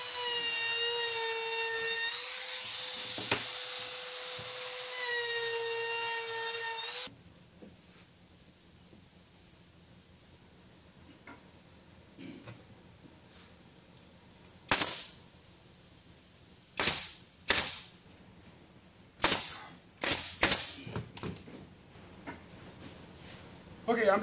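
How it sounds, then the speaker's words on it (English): A trim router fitted with a round-over bit whines loudly and steadily as it routes a wood edge for a homemade jointer jig, then cuts off; several short, sharp clicks and knocks follow in the quieter stretch. "I'm going to go ahead and use my round over with my trim bit, or my trim router"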